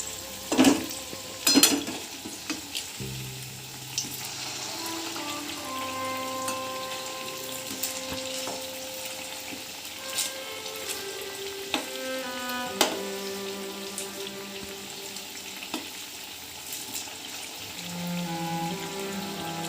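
Gokul pitha, sweet fried dumplings, sizzle steadily in oil in a pan, with scattered clicks and scrapes as they are carefully turned, under a faint tonal background.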